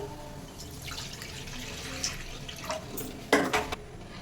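Water is poured into a kadai set on the gas stove, making a quiet, close trickle and splash with a few light clinks. The pour swells into a brief louder gush near the end.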